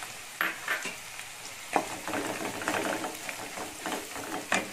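Chopped green beans tipped into a hot pan with oil and curry leaves, giving a steady sizzle and frying hiss with a few louder bursts and stirring scrapes, close and without talk.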